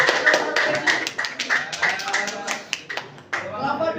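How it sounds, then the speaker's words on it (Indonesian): A classroom group of students claps for group 1 after answering a spelling question, a short burst of hand claps with speaking voices mixed in throughout. "tepuk tangan buat kelompok 1"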